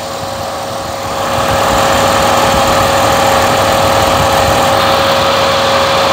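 A cold car engine idles steadily while its radiator fan runs, giving a loud, constant mechanical hum and whir that swells after the first second and then holds even, with no talking.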